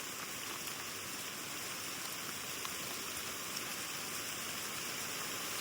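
Steady rain falls through woods, a dense even hiss of drops on leaves and ground with no pauses, moderately loud and unbroken by voices.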